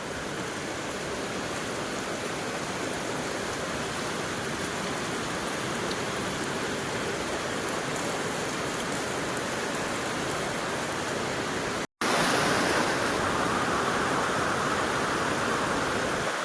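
Heavy rain pours steadily on a vegetable market in Taloja, producing a dense, loud hiss that holds through the whole stretch with one brief break near the end. No voices can be heard.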